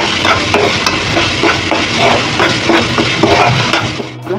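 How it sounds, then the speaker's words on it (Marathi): A spoon stirs and scrapes masala frying in a pan for chole, with a steady sizzle and repeated rhythmic scraping strokes, fairly loud and close, no talking. "मसाला परतून घेणं हे महत्त्वाचं आहे."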